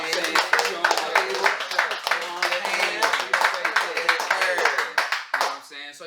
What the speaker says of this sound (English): We go give him a round of applause.